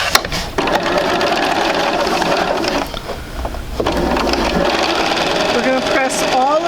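A sewing machine stitching quilt fabric, a fast, loud, steady mechanical whir that pauses briefly midway and resumes, with a person talking over it.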